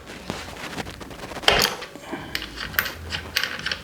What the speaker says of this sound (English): So this is just a 12mm socket for this bolt here in the back.